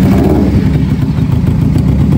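A Kawasaki Ninja 250 motorcycle engine runs steadily up close, its loud, even idle clattering without a break.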